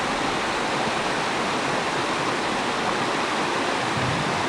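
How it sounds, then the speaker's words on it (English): A waterfall fed by a fast current near a cabin roars as a steady, loud, broad rush of water, continuous and close, with no voices. "And then it drops off right over there in a waterfall."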